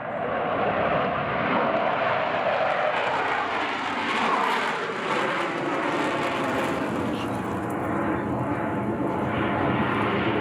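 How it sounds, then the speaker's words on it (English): At an air show, a jet aircraft maneuvers in afterburner with a continuous loud, broad roar that swells and rumbles steadily throughout. "Maneuver performed in afterburner, no smoke."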